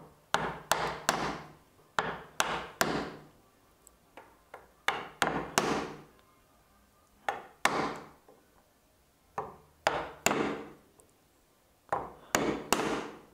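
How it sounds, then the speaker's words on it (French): A wood chisel is struck with a mallet while chopping out the waste of a hand-cut dovetail joint in a board, giving about twenty sharp close knocks in quick groups of two to four, separated by short pauses. "Je tiens mon ciseau à bois à la verticale, la planche éloignée du trait de trusquin. Je fais un premier coup."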